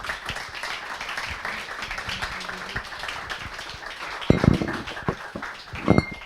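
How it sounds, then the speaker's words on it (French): The public at a literary event in a bookshop applauds an author, steady scattered clapping from a modest crowd with a few louder, closer claps standing out near the end. "Je pense qu'on peut vous applaudir."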